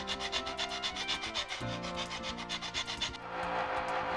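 Sandpaper rubbed back and forth along a wooden slot in an I-beam spar, a steady close rasping rhythm of short strokes that shifts to a smoother continuous scrape near the end.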